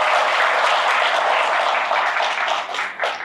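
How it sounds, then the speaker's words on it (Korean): An audience at a tax-saving lecture claps in a dense, steady burst that thins out toward the end, with no talking over it. "박수 한번 치시고."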